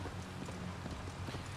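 Steady clip-clop of horse hooves at a trotting rhythm in the video game Assassin's Creed Valhalla, moderately quiet, with a faint background hum and no talking.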